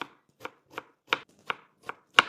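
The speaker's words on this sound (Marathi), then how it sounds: "आपण आता कांदा बारीक कट करून घेऊ." Onion being finely chopped with a knife on a board, seven crisp separate cuts at an even, unhurried pace, close and clear with no talking.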